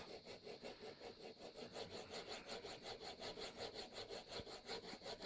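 Chisel sharpened by hand on a 6-inch plate, a steady rhythmic back-and-forth rasping stroke repeating evenly and close, quiet, with no talk.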